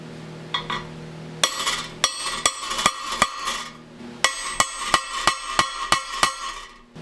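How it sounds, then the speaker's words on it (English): Sharp metallic strikes punching holes in motorcycle tail plastic, a couple of early hits then a steady series of close, clanking punches with brief gaps between. "we're ready to start punching these holes out"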